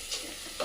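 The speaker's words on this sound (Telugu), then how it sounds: "ఒకసారి కలుపుకుందాం." Bitter gourd curry stirred in a clay pot in a village-style kitchen, a brief soft scrape of the spoon over a steady sizzling hiss, close and moderately quiet.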